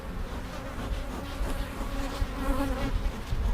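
Honeybees swarming around a beekeeper during winter hive preparations, a dense continuous buzz close to the listener that swells slightly toward the end.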